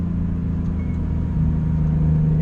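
A 2017 Acura NSX with 573 hp pulls hard on a race track, its engine a loud, steady, low droning roar that rises slightly in pitch as it accelerates, heard from inside the car.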